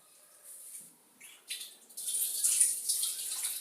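Water runs and splashes while a frying pan (kadai) is washed, starting as faint trickles and swelling into a steady close rush of flowing water, with no talk.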